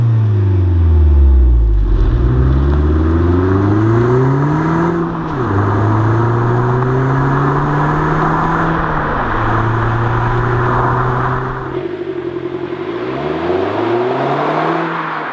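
An Audi A1 S-Line with a small 1.4 litre engine of about 120 horsepower revs and accelerates through several gears, loud and close, engine pitch climbing then dropping at each shift, with no talk.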